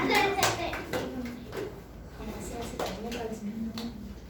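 A group of children claps for a storyteller at a storytelling competition, several short bursts of hand clapping in a room, mixed with talking voices.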